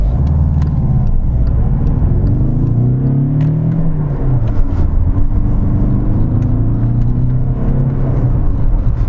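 Cabin sound of a Volkswagen Golf 6 with a 2.0 TDI 110 diesel engine while driving: a steady low engine drone and road rumble with gently rising and falling pitch as it pulls, loud and enclosed, with no talking.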